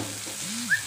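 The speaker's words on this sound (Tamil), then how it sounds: "இதையும் போட்டு நல்லா வதக்கி விட்டுக்கலாம்." Tomato and green chillies sautéing in a pan for a drumstick curry, giving a steady soft sizzle and frying hiss throughout, with a faint clink or stir near the end and no talking.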